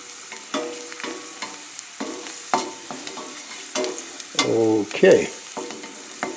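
Garlic, Swiss chard and mushrooms sautéing in a pan, stirred with a non-metal utensil: a steady close sizzle under repeated soft scraping strokes, with a few louder stirring bursts near the end and a brief word spoken.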